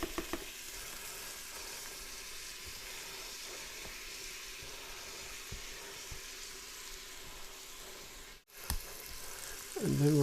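Chopped onions fry in olive oil inside a Pampered Chef Multi Cooker, a steady close sizzle with faint crackles throughout, briefly dipping before a louder clatter at the end.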